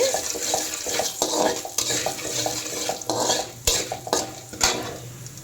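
Chana dal and dried red chillies are sautéed in a pan for sago khichdi. A low sizzle runs under frequent stirring scrapes and metal utensil clinks.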